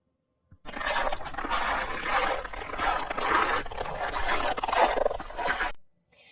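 Steady crunching of footsteps in snow, a continuous crisp crackle lasting about five seconds, close and fairly loud, with no voices.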